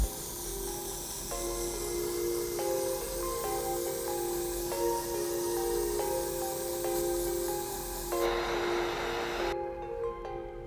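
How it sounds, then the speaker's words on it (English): An airbrush sprays Jacquard black paint onto a taped-up Pirate Black Yeezy 350 sneaker: a steady, soft hiss runs beneath background music. "For this step, we'll be using some Jacquard black paint through my airbrush."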